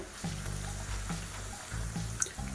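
Maddur vada deep-frying in hot oil, a continuous bubbling sizzle with soft crackles and occasional utensil taps, steady and close with no talking.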